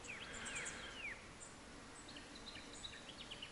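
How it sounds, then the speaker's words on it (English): Faint, low insect buzzing from bees in Australian bush carries through a quiet outdoor scene, with scattered distant bird chirps and calls layered over it. "bees are buzzing around."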